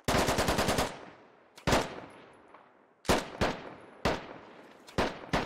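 Gunfire in the Arma video game aimed at an MRAP's turret: a rapid automatic burst, then several single and paired sharp shots, each trailing off in a long echo across open ground.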